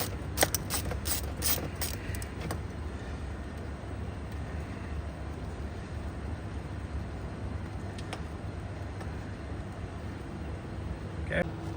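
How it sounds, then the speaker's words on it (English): Mechanical ratcheting and metallic clicks from a wrench loosening a 7mm bolt on the side mirror of a Ford F250 pickup, with several sharp ticks early on and a steady low mechanical hum running underneath. "take off this bolt, and it is a 7mm, so go ahead and just remove this"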